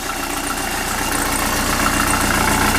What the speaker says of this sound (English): it's a lovely engine.